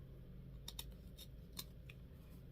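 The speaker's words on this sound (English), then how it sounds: "Cut it at the bottom." Scissors snipping a strip of ribbon wrapped four times, for a Valentine's Day bubble wreath: a few quick, faint crisp cuts close by against a quiet room hum.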